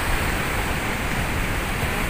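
Steady wash of waves moving through a water-filled canal, a continuous broadband rush with no pauses, close and fairly loud, heard alone with no voices.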